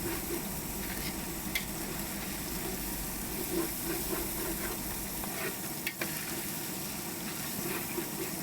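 Spices and green chilies frying in a pot for Afghani kabuli pulao with beef, a loud continuous sizzle and hiss with intermittent stirring scrapes and small pops, no talk.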